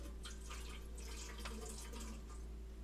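Water trickles and drips softly for a pet indoors, a faint, steady splashing over low background hum with no one speaking.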